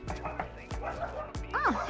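A dog inside a house in Austin's Hyde Park neighborhood gives several short, sharp barks and yips, ending in a rising whine, heard fairly close at moderate volume.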